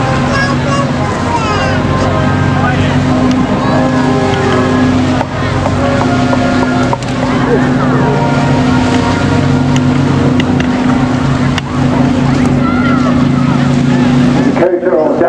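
A Douglas C-47 Dakota on a display flypast drones steadily with a loud, continuous piston-engine hum that holds throughout, with a commentator talking over it.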